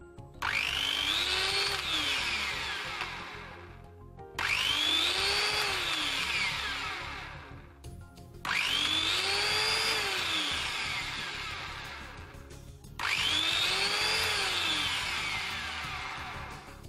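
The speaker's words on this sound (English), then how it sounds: "the machine starts up with half the power, and after 1 second it's turning on fully," A 720 watt angle grinder on a DIY soft start circuit is switched on four times; each start rises from a softer half-power whine to a full high-pitched spin, then winds down, close and loud.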